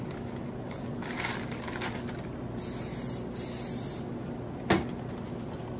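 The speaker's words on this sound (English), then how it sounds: "So I'm going to spray down the spatula I'm gonna use, and I'm going to spray down the bag I'm gonna use." Cooking spray hisses onto a spatula and a piping bag for making homemade marshmallow peeps, in several short bursts of about a second each over a quiet kitchen background, followed by a brief clack near the end.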